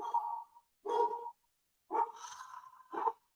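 Dogs bark in four short, separate bursts with brief pauses between them, fairly close and moderately loud against an otherwise quiet background.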